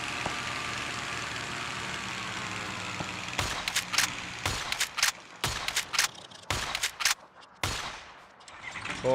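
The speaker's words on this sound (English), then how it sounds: "Y'all see how many times I'm shooting this one with the shotgun?" In the video game Far Far West, a shotgun fires repeatedly with sharp, loud blasts in an irregular series, following a steady droning background hum.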